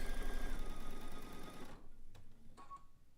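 A sewing machine runs close by, stitching over thick quilt seams in one steady burst for under two seconds before stopping, followed by faint handling clicks.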